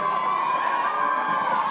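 A crowd at a school performance of "Movin' Out" cheers and applauds in a steady, loud wash with shouts mixed in, no single voice standing out.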